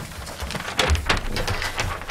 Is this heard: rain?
yes